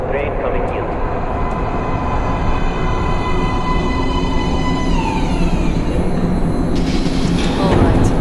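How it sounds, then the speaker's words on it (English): A metro train rolls into an underground platform in the video game Metro Last Light, a steady loud rumble with rising whines and squeals as it arrives, heard under talk. "Please step away from the edge of the platform. Train coming in."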